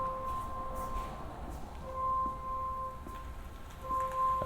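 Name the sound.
Hyundai Santa Fe PHEV reverse warning sound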